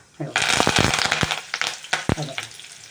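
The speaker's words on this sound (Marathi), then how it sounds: "तेल टाकलं आता आपण जिरे टाकूया जिरे टाकलं आता कढीपत्ता" Cumin seeds and curry leaves hitting hot oil for a tempering, bursting into a loud crackling sizzle that then sputters and pops in uneven bursts, close up.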